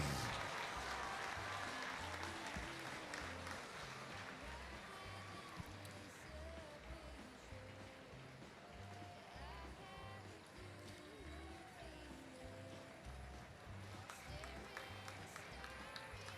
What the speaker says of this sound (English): Let's hear a big round of applause for our title sponsor